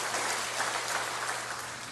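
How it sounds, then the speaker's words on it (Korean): A church congregation applauds during a sermon: dense, continuous clapping that sounds fairly faint and distant, with no talk over it. "우리 성도님들이 한번 박수를 치면 아마 들으실 수 있을 것 같은데 힘내시라고 박수"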